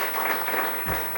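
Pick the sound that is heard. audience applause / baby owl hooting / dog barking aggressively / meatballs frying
audience applause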